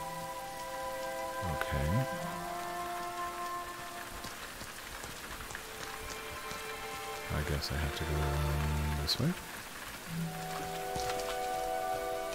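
Steady rain patters on surfaces throughout a scene in the video game Rain, a continuous hiss with occasional louder bursts, while a person talks over it.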